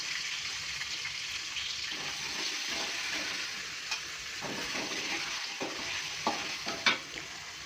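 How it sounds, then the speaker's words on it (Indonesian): Boiled eggs fry and sizzle in a pan with a steady, close hiss, broken by a few stirring scrapes and clinks toward the end. "Telurnya tadi udah saya rebus dan sudah saya goreng. Goreng sebentar aja."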